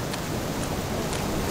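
Steady, dense rain with a broad gusty rush of wind in a Trainz railway simulation, continuous and fairly close, with no voices.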